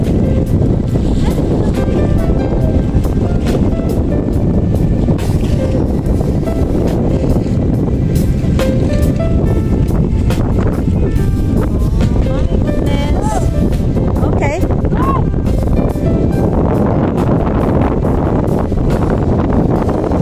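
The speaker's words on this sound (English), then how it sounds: "It's so windy." Strong wind gusts buffet the microphone on a coastal hike at Plover Cove, a loud, constant roar with rumbling low-end across the whole stretch, and voices talk faintly beneath it.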